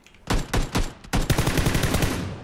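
Rapid bursts of gunfire in PlayerUnknown's Battlegrounds, a few separate shots followed by a longer, fast rattling volley, close and loud with no talk over it.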